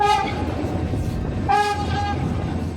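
A passenger train on a private Eastern European tour sounds two loud horn blasts while the Croatian locomotive is uncoupled and a Serbian one attached at the border, over a steady rumble of the idling train.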